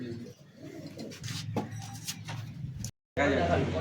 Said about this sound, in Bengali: এইসব পায়রা আছে দাদার কাছে